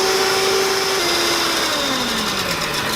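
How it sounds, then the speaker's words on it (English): Electric mixer beaters whirring on high through eggs with baking powder and salt, a steady loud motor whine whose pitch slowly drops as the mixture thickens, with no voices. "This is when you want to turn your beaters on high"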